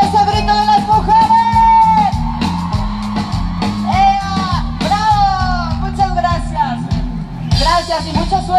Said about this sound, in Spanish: Y ese grito de las mujeres.